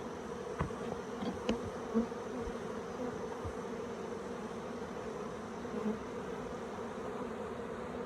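Honey bees swarm around crowded hives being supered in the Orara Valley, their dense, even buzz filling the air close by. A few individual insects fly past with louder, nearer passes.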